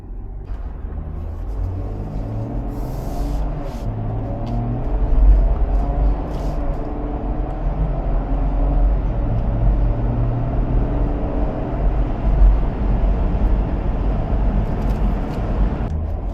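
An Ineos Grenadier off-road vehicle drives along with a steady low engine rumble and road roar from inside the cabin, with occasional swells of engine load and light rattles.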